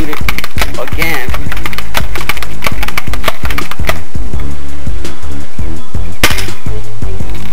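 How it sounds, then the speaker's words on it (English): Homemade air rifle fired without a silencer: a rapid series of loud, sharp cracks, some in quick succession, close to the mic, with a brighter burst near the end. "Shoot it once again without the silencer."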